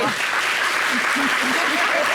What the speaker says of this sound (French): je n'ai pas compris les applaudissements